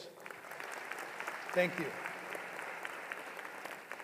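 Audience applause filling a hall at a university commencement ceremony, steady broad clapping throughout with a brief spoken word over it.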